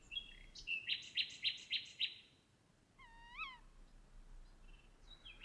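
Bird calls ring through lowland woods at dusk: a quick run of five loud, rhythmic chirping notes, a pause, then a rising, wavering call, with a few fainter calls after it over a quiet background.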